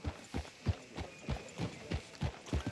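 A horse's hooves clip-clopping at a steady walking rhythm in Red Dead Redemption 2, each footfall a distinct close thud repeating about every quarter second.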